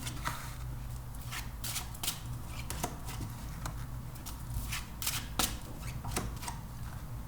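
Tarot cards being shuffled, soft close riffling and flicking bursts in an irregular rhythm, faint and alone.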